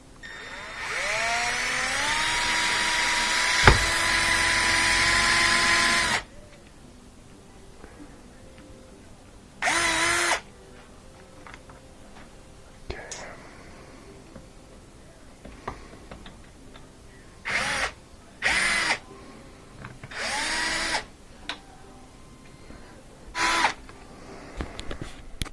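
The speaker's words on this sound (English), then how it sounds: "I'm going to put a hole here that goes through the metal and then put a set screw to hold it" A power drill bores a hole through the metal of a Miele dishwasher door, starting with one long high whine and followed by several short, loud bursts separated by quiet pauses.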